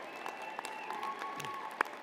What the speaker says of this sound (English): Wave and cheer, make some noise, show them how grateful you are.